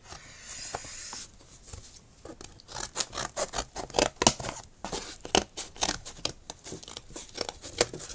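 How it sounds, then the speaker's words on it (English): X-cut scissors snip through stiff mount board in a quick series of sharp, crisp cuts, close up, with a few scraping rustles between them. "These are my X-cut scissors. They're brilliant for cutting mount board,"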